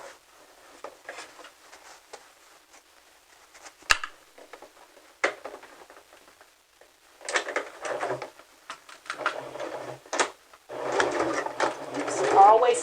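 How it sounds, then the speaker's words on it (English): A sewing machine runs a 3/8 inch seam on a clutch purse in short, start-stop bursts of fast mechanical stitching, separated by quiet pauses and small handling clicks, with the run growing louder and longer toward the end. "we're going to sew a 3/8 inch seam again from top to bottom."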